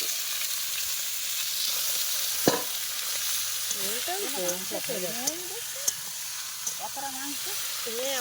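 Meat sizzling loudly in a frying pan with potatoes, a constant hiss, a sharp clank near the start, and a voice talking quietly underneath.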